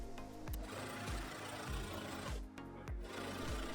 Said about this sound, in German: Senke da meinen Nähfuß und fange genau da an zu nähen.